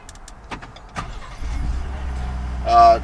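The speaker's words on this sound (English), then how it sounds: "you do have remote start on this truck" A 2017 Ford F-150 King Ranch pickup starts by remote: a few clicks and relay taps, then the engine cranks and catches into a steady low idle, with a brief higher chime-like tone near the end.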